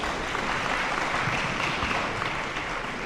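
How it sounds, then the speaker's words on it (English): A conference audience applauding after a panel, steady dense clapping that holds at an even level from a moderate distance throughout. "Please give them all a round of applause."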